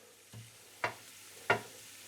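Garlic fries in very hot, smoking oil in a pan, with a faint sizzle under three short, distinct stirring scrapes spaced about half a second apart.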